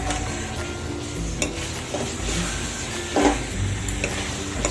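Onion and capsicum sizzle softly in a hot pan, with a low steady frying hiss broken by a few stirring scrapes and light clinks of the spoon against the pan.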